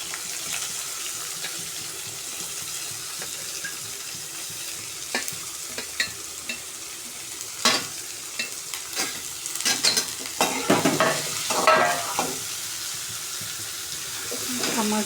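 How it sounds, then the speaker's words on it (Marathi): Onions sizzle steadily in a pan while a spoon stirs and scrapes through them, the scraping growing busier and louder toward the end. "मस्त कांदा लाल करून घेऊ आपण."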